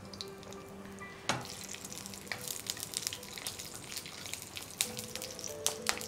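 Cinnamon and cloves sizzle in hot oil for tempering a paneer jalfrezi, a soft steady crackle with a few sharper pops and clinks.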